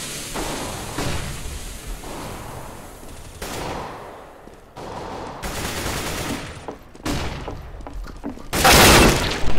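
A flashbang grenade going off in the shooter CS:GO, a loud bang followed by a bright sustained ringing hiss, amid other sharp gunfire-like bursts and clattering in a busy match.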